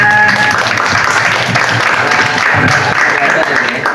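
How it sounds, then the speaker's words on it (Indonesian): Applause from the audience at a press conference for the film "Dosa" fills the room, loud and dense throughout, with a voice speaking over the clapping. "tepuk tangannya."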